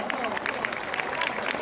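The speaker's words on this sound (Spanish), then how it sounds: "Lo recibimos con fuertes aplausos" An audience at a school musical event applauds to welcome a teacher, with dense close clapping and crowd noise throughout a short burst.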